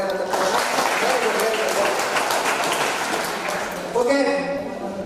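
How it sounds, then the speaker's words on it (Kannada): Audience applauding a folk song singer at a school co-curricular activities event, steady dense clapping for about four seconds, loud and close, with voices mixed in as it fades. "ಇನ್ನೊಂದ್ಸಲ ಅವ್ರಿಗೆ ಜೋರಾಗಿ ಚಪ್ಪಾಳೆ"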